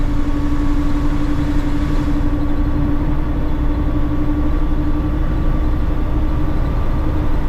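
A CAT C11 truck engine pulls in eighth gear while hauling 15 tons, a steady low drone with a constant hum from inside the cab, no talk.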